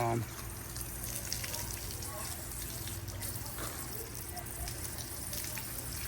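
Steady rushing water flows continuously from a garden hose filling a bird bath, with faint background noise throughout.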